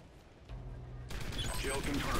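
AK rifle fire in Call of Duty: Ghosts multiplayer, a dense burst of gunshots that swells after the first second and runs steadily to the end, loud and close amid game noise, with faint voices mixed in.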